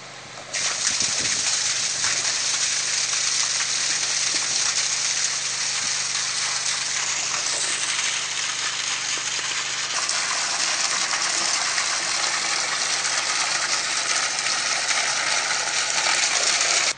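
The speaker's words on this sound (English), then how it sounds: "the hose is in position. So we're just going to fill this up" Water from a hose gushes steadily into a fish tank for growing catfish, a loud continuous splashing rush that holds almost unbroken from start to finish with no voices.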